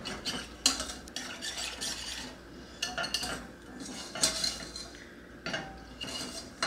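A whisk stirs pudding mixture in milk inside a pot, giving soft scraping and light clinking strokes in an irregular rhythm, close by and fairly quiet.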